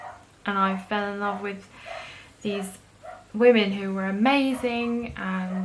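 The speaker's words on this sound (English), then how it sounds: "sorry about the barking," A dog barks a few times in the background while someone talks continuously over it.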